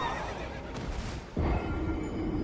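A horse whinnies in the video game Elden Ring, a loud, close neigh over a dense, continuous game soundscape that shifts partway through.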